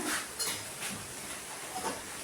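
A pot of water boils on a home kitchen stove, giving a soft, steady hiss with gentle recurring bubbling surges, fairly faint throughout.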